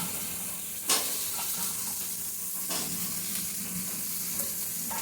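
Stalks of milk taro tossed into a pan of frying spice paste, a steady hiss and sizzle with a few sharp crackles and stirring scrapes, close up and without voices.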